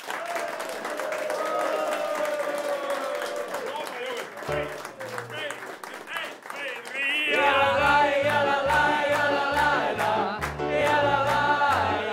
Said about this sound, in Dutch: Mag ik een applaus voor Koen?